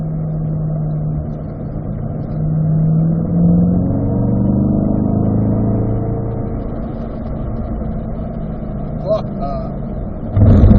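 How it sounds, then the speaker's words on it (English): Car accelerating in fourth gear on a racetrack at a performance driving school, engine note climbing steadily in pitch, loud and close from inside the cabin, with an instructor talking over it. "Back to 4th gear right here, Marco."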